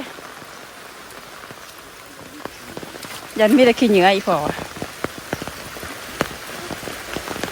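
Heavy storm rain keeps up a steady hiss and patter, with scattered close drops ticking throughout. Someone speaks briefly partway through.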